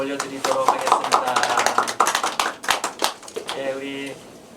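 Congregation applauding during a Sunday church worship service, a burst of many hands clapping in a dense, rapid patter that swells and then thins, with sustained musical tones underneath.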